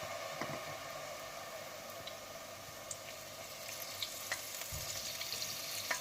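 Pruned bell pepper leaves fry in hot oil with a soft, even crackling sizzle and scattered small pops throughout, fairly faint and close, with no voices.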